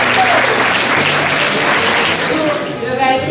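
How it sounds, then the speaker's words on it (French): Applause from an audience at a local history rally event in Lavaltrie, a steady dense wash of clapping filling the whole moment with a faint voice audible underneath. "On les applaudit vraiment."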